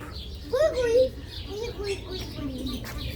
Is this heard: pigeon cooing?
yes